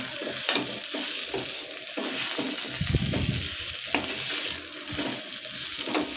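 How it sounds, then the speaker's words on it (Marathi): Potatoes coated in spices being stirred in a pan over a low flame, with a steady soft sizzle and repeated scraping strokes of the spoon against the pan, close up and without talk. "आता हे मसाले आहेत ते बटाट्याला व्यवस्थित लावून घ्यायचे आहे मिक्स करायचे आहे"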